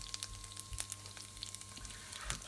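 Spices popping and crackling in hot oil in a frying pan while cooking an easy lentil curry, with scattered sharp pops over a steady low sizzle, close and moderately loud.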